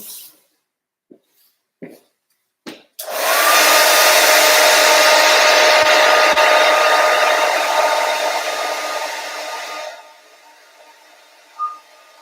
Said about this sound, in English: once again, I blow dry all of this. Blow dry time.